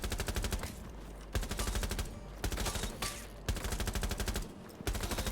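Bursts of rapid automatic gunfire at shooting-range targets in a video game, loud and close, coming in several sustained volleys separated by brief pauses.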